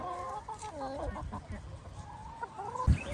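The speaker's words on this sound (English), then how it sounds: "Chickens are awesome." Several chickens cluck and murmur close by in short, overlapping calls, with a brief thump near the end.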